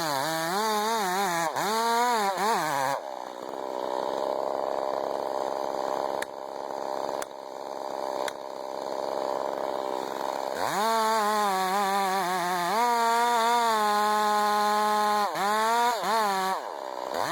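Chainsaw cutting to fell a big tree, the engine revving hard and bogging into the wood, easing back to a high idle midway, then surging into sustained cutting again, loud and near.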